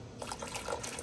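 Water pours steadily into a canning pot on the stove during plum jelly making, a brief splashing fill heard alone with no talk.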